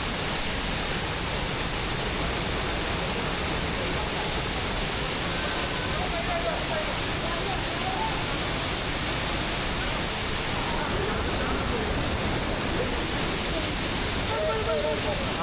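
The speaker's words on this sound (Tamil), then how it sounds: "ஆனால் இந்த அருவி வேற மாதிரி. சூப்பராக இருக்கு." Steady roar of a hidden waterfall at Achankovil, Kerala, a broad, unbroken rush of falling water close by that fills the whole scene without pause.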